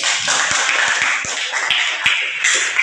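Classroom applause for a student named Riri: a crowd of hands claps in a dense, steady patter, near and fairly loud, with a few sharper taps standing out.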